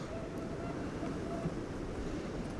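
Fierce wind after Storm Éowyn in Ireland, a steady broadband rush and rumble against the microphone with no clear gaps.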